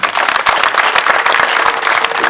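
Wedding audience applauding, many hands clapping in a dense, loud, continuous burst from close by, with no talking.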